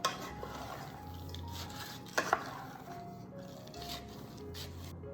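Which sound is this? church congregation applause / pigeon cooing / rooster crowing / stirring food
stirring food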